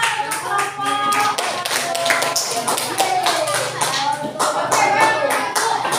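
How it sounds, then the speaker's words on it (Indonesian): Classroom hand clapping for a group, many people clapping in quick uneven bursts close by for six seconds, with a few voices speaking over it. "tepuk tangan untuk kelompok"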